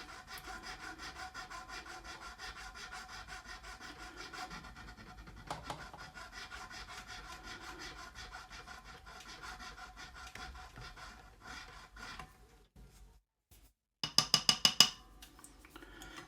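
A file works the nut slots of a Gibson Les Paul, giving steady rhythmic rasping strokes up close for about twelve seconds, then a pause and a few sharp taps to clear dust, followed by more filing.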